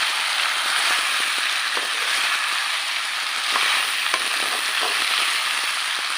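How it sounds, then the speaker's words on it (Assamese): Khichdi is fried in a pan with a steady, bright sizzle that runs the whole stretch, broken now and then by the light scrape of stirring, with no voices. "এইখিনি এতিয়া অলপ সময় ভাজিম।"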